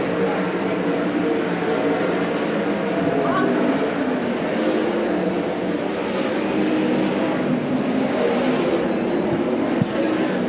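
Race cars roar around a dirt track during an evening hot lap session at Port Royal, a steady, loud engine drone that rises and falls as cars pass, with a commentator talking over it throughout.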